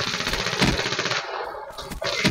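Shotgun fire in a multiplayer video game match: loud, dense blasts and rattling shots that run almost continuously, with a short break in the middle.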